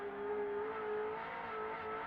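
A Holden VK Commodore Group A race car climbs the mountain at Bathurst, its engine holding a loud, steady high whine close by with no clear break for a gear change.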